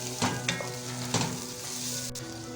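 Tomato slices sizzle steadily in hot oil with ginger garlic paste for a chilli chicken curry, with a few soft stirring scrapes breaking the close, even crackle.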